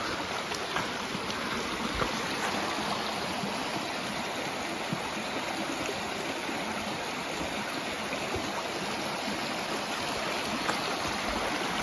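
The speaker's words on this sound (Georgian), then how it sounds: "ფაქტიურად სათავეა მდინარის პატარა ღელესავით ჩამოედინება ძალიან ლამაზი ხეობაა" A small mountain stream near a river's source in a Georgian valley flows steadily in one continuous rushing, splashing wash, close by and unbroken, with no voices.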